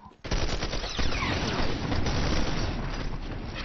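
Gunfire in a Fortnite match: a dense, continuous rattle of rapid shots and bursts. It starts abruptly after a brief quiet moment and stays loud and near throughout, with a few bursts standing out above the barrage.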